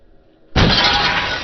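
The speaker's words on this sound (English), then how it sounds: "watching the screen shatter was so freaking cool" A computer screen is being wrecked. After brief near-silence, a sudden loud crash of breaking glass bursts in and stays as a dense, sustained shattering roar.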